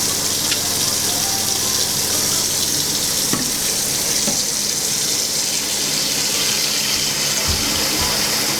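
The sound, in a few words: sink filling with cold water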